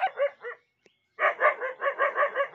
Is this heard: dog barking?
yes